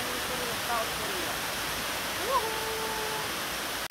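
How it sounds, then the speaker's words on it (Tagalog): A man-made waterfall in South Korea gives off a steady, broad rushing roar of falling water, with faint voice-like tones riding over it. "maliligo tayo dito sa sobrang ganda ng kanilang waterfalls, man-made waterfalls"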